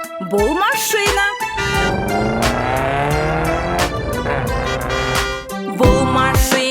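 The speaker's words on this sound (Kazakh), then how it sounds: "Бұл машина." A car sound effect in a children's song, with a revving engine sweeping up and down and squealing tires, loud and continuous over a busy musical backing, with no talking.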